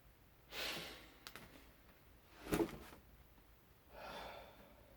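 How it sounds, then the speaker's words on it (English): Breathy exhales, three soft whooshes spaced apart, with one sharper sniff-like puff in the middle, close and quiet against a near-silent room. "Exhale."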